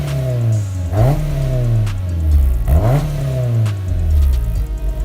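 A Toyota AE86 fitted with an HKS Sport exhaust revs twice, each blip rising sharply and falling back to a burbling idle, loud and close.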